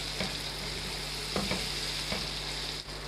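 Spices sizzle and fry in a hot pan for potato and egg keema, steady crackling hiss with a few soft scraping stirs of a spoon, close and continuous, no talking.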